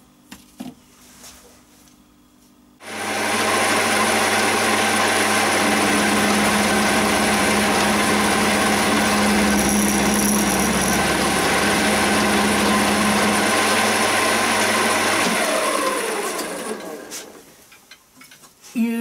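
A milling machine cuts steps in brass angle to width, a steady loud machining drone with a low motor hum running about twelve seconds, starting abruptly and winding down at the end, with no talk over it.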